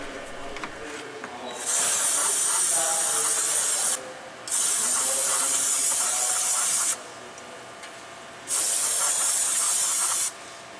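Aerosol cleaner sprayed onto a Ford Edge throttle body gives three long, loud hissing bursts close to the mic, separated by short pauses, with faint background noise between them.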